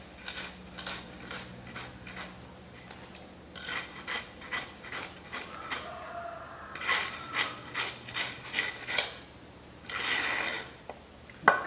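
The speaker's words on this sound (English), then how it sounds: "A little is projecting above the molding box. Now we have to remove that one. For that a strike off bar is used." A strike off bar is scraped across the top of a foundry molding box to clear excess sand. It gives a close, gritty rasping in short repeated strokes, with no voices.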